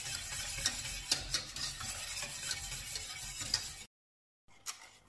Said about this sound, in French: Et vous remettez au feu et vous mélangez bien jusqu'à ce que ça s'épaississe